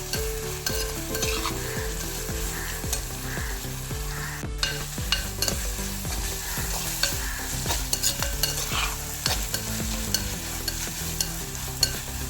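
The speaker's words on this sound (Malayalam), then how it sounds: "എല്ലാം കൂടി ഒന്ന് നന്നായിട്ട് മിക്സ് ചെയ്യാം." Onion mixture with salt frying in a pan for an anchovy fish peera dish, steady close sizzle throughout with repeated scraping and clattering strokes of a spoon stirring, no voices.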